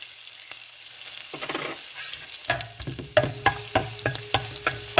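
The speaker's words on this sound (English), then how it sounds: "stir it well." Potato bhaji with spices frying in a pan while being stirred, starting quiet and building to a busy sizzle with repeated close spoon scrapes and clacks in quick rhythm.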